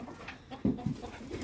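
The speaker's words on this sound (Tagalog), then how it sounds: "Oh, ang daming ibon dyan." Birds coo softly at a farm in Italy, with two or three low pigeon-like calls at a moderate distance against faint background noise.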